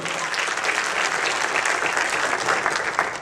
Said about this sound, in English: just put your hands together and just give God a hand clap of praise